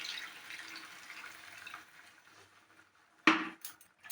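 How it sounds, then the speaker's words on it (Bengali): Tender coconut water goes into a coconut prawn masala: a soft, fading liquid wash, a quiet gap, then a sharp splash and clatter against the pot before the pour continues faintly. "এবার আমি রাখা ডাব জলটা দিয়ে দেবো।"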